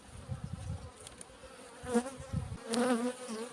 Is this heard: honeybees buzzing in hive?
yes